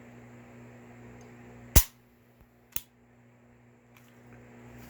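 A CZ P07 pistol dry fired, its trigger pulled so the hammer drops with one sharp metallic snap, followed a second later by a softer click, close and clear over a quiet background hum.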